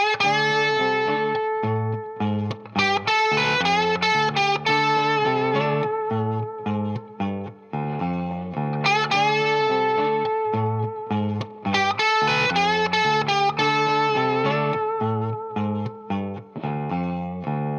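A distorted electric guitar plays a lead line over a rhythm backing, with notes bent and sustained in a bluesy phrasing, steady and prominent.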